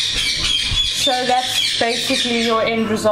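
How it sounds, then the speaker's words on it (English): A pet bird squawks loudly and harshly several times close by, with the calls overlapping a person talking. "Sorry if you can hear the bird in the background."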